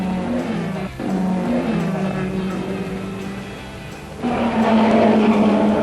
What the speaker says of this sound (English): The JW Porsche has an unassailable lead, with the Elford Hulme 917 in second place